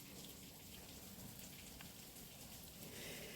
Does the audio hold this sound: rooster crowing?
no